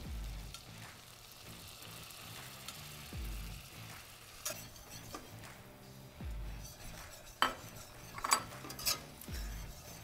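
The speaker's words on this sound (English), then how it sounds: "Now you want to toast that flour up right nice." Flour for pastrami cheese fries toasts and is stirred in a hot pan, giving a steady close sizzle with scraping strokes and occasional utensil clinks against the pan.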